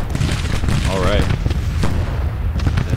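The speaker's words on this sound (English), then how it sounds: "Alright, let's send Ashby to deal with this battery. 3rd Division Artillery" Artillery fire in the Civil War strategy game Grand Tactician, with dense, continuous booming and rumbling gunfire throughout and a brief rising voice-like tone in the middle.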